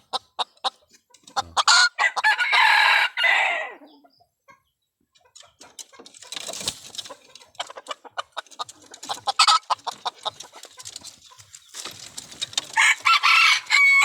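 A red junglefowl rooster crows loudly up close, followed by scattered clucks and rustling, then another long crow near the end.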